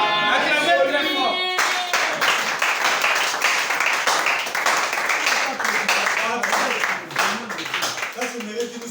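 A church congregation applauds, with a dense burst of many hands clapping close by that carries on steadily for several seconds after a voice briefly calls out at the start.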